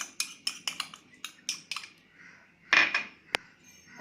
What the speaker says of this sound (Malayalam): മുട്ട അടിച്ച് പതപ്പിക്കുക.